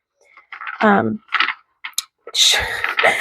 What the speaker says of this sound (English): you can bend it a little bit and do the side riffle